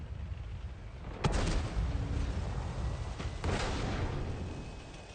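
Incoming tank shots in a tank battle video game land as two sharp booming impacts a couple of seconds apart over a dense, rumbling battlefield roar.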